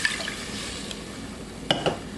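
Coconut water set aside from the coconut is poured into a pot for a Belizean coconut tart, giving a soft, steady liquid trickle with a couple of brief, sharp splashes or drips near the end.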